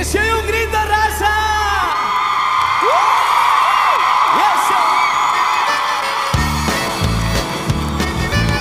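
A large crowd at a 1998 live concert in the Astrodome yells, whoops and cheers loudly and continuously, with shouts rising and falling before music and amplified sound return near the end.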